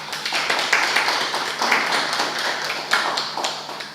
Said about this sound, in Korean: 큰 박수로 격려를 부탁드립니다